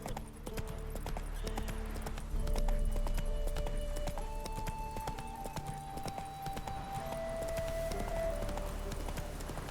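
A horse gallops in The Witcher 3 video game, giving steady rhythmic clip-clop hoofbeats at moderate volume under a soft background music bed, with no talking.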